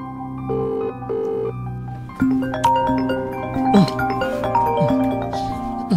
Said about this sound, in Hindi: पता नहीं यार सर फ़ोन उठाएंगे कि नहीं